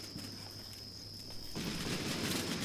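Gunfire in the video game Combat Mission Black Sea, with US troops returning fire, sounds as a dense crackle that grows louder and busier midway and keeps going steadily.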